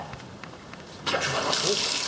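An old commode in a 1930s Dallas house interior, its stopper loose and corroded, flushes with a sudden loud rush of water that starts abruptly and keeps running steadily after a quieter stretch.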